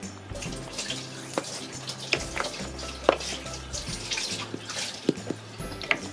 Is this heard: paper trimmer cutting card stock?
no